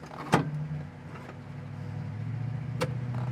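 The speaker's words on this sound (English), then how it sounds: "Yeah, yep, heater fan works." The heater fan of a 1967 Ford Mustang 390 S Code makes a steady low whirring hum inside the car. Two sharp clicks stand out over it, one near the start and one near the end.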